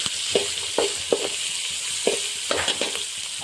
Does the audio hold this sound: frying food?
yes